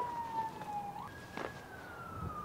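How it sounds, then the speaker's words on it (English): A police siren passes outside, its faint wailing tones rising and falling at a distance with no voices heard. "I really wish the siren would just go away."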